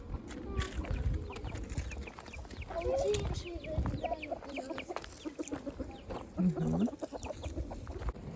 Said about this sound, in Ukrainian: Маленькі курчатка.